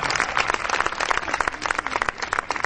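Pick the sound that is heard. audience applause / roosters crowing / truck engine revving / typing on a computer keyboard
audience applause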